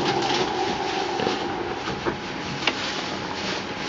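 A metro train in the game VG Metro 2.5 rumbles steadily across a bridge with a continuous mechanical hum and faint rhythmic clacks, loud and close, with no voices.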